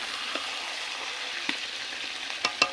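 Mutton sizzles in oil as it is cooked down for a red Bengali curry, a steady soft hiss broken by a few light stirring clicks and one sharper scrape near the end, with no voices.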